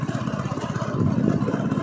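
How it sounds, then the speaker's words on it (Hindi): A motorcycle engine putters on a road at night, a low, steady, pulsing thrum that grows slightly louder toward the end as it approaches. "शायद आगे से कोई बाइक आ रही है ना,"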